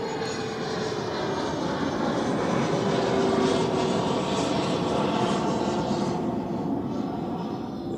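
An Embraer Phenom business jet moving near Zurich Airport, a steady loud engine roar with a thin whining tone, holding level across the whole stretch with no voices.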